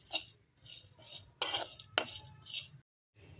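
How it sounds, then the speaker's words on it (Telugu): Dry fruits and seeds being fried one batch at a time in a pan, with a utensil scraping and clinking against the metal in short, uneven bursts and a faint sizzle between them. "1 బై 1 వేసుకొని నేను ఫ్రై చేసుకుంటున్నా."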